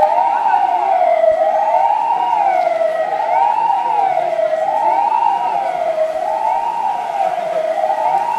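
A Volkspolizei patrol car, a 353 Wartburg, drives in the Zschorlau Heimatfest 2013 festival parade with its Martinshorn siren wailing loudly and continuously. The siren is close and rises and falls in a steady repeating cycle.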